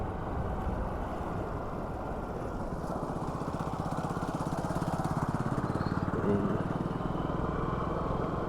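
A Suzuki Access 125 scooter riding and accelerating on an evening drive, its engine a steady buzzing drone that rises slightly as it picks up speed, with wind rushing over the microphone throughout.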